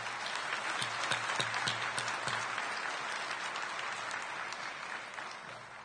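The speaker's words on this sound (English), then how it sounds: "Please give him a round of applause." An audience at a high school senior awards ceremony gives a sustained round of applause, many hands clapping steadily in a large room, with a few sharper claps near the front and a slight fade toward the end.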